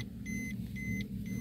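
Busy road traffic near Sampalok Lake in San Pablo City: a low engine rumble runs throughout, with three short, high electronic beeps or horn tones repeating at regular intervals.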